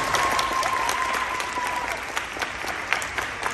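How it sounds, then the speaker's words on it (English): Audience applause at a high school aviation symposium ending ceremony, a loud, dense patter of clapping that carries on steadily throughout. "Y'all give this cat a round of applause."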